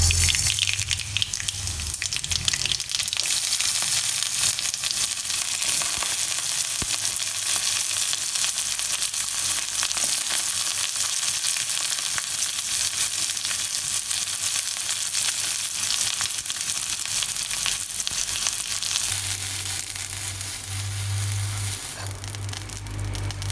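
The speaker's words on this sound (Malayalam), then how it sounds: "നമുക്ക് അവസാനമായിട്ട് ഇതിനകത്ത് കടുക് പൊട്ടിച്ചിടാം" Mustard seeds crackle and splutter in hot oil poured over a sardine and raw mango curry, a steady loud sizzle with dense popping that carries on without a break and swells near the end.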